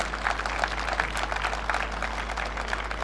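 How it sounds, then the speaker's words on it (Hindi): An audience at a railway award ceremony claps in steady, continuous applause, a dense patter of many hands carrying on without pause and heard alone, with no talk. "मंच पर आने तक आपकी तालियां अनवरत बजती रहनी चाहिए"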